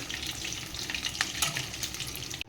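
Pieces of tilapia fish sizzle steadily in hot oil in a kadai, a dense, even crackle close by that fades at the very end, with no voices.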